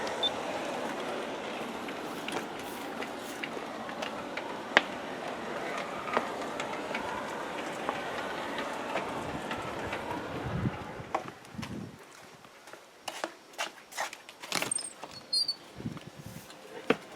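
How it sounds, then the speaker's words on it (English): A USA Trains S4 model switch engine rumbles steadily along a track with a constant whirring hiss, then quiets into scattered clicks and rattles toward the end. "a test run of the USA Trains S4 switch engine"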